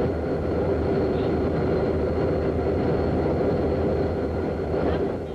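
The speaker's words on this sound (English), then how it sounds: "It's a sound of three train engines running." Three parked train engines idle in a quiet neighbourhood, giving off a loud, steady low diesel rumble with a faint high whine above it, unbroken and without talking.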